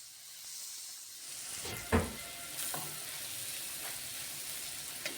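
Chicken and vegetable sandwich filling fries in a pan with a steady, soft sizzle, broken by a few clinks and scrapes from stirring.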